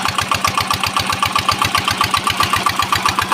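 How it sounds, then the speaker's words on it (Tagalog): A steady, loud irrigation water pump engine chugs away in a farm field with a fast, even rhythmic pulse, running continuously close by. "Tignan natin yung makina akong malakas. Ayun, makina ang patubig."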